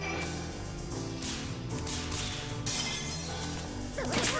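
Eel monster noises from the video game Shadow Hearts: a dense wash of game music with layered crashing, shattering and swooshing effects throughout, ending in a rising warbling squeal.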